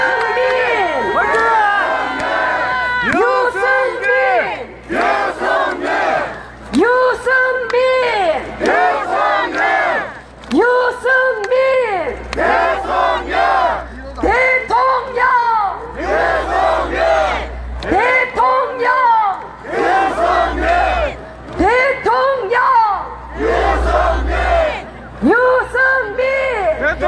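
A large outdoor crowd at a Daegu street election rally for a presidential candidate cheers and chants in loud, rhythmic bursts, with amplified shouting throughout and a few short lulls between waves.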